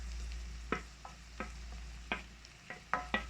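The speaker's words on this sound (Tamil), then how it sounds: "இப்போ நம்ம இதில் நம்ம கட் பண்ணி வச்சுருக்க அந்த தக்காளியை போட்டுடலாம்" Chopped tomatoes frying in ginger garlic paste for prawn curry, a faint soft sizzle under intermittent scraping clicks of a spoon stirring against the pan, with a low steady hum beneath.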